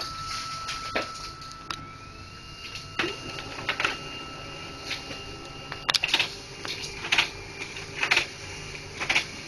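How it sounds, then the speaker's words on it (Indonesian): A repaired Samsung LaserJet SCX-4521F laser printer running normally, with a steady mechanical hum and a series of short clicks and clacks, louder toward the end, and no talking. "printer kembali normal, tidak mengalami warming up."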